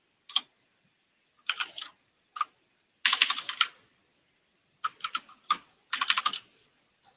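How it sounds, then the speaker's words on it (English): Typing on a noisy computer keyboard, several short bursts of loud clacky keystrokes separated by pauses, close and alone. "Sorry for the noisiness of the keyboard"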